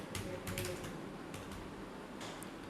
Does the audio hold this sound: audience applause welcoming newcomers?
no